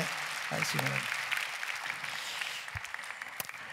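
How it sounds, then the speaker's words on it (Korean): Church congregation at a Sunday worship service applauds in a steady patter of clapping, while someone speaks briefly over it near the start and a sharp knock sounds later. "다시 한번 박수로 축하해 주시기 바랍니다."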